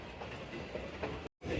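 A train pulling into Lahore railway station, steady rolling rumble and rail noise at moderate level throughout, with a brief cut near the end before the sound resumes.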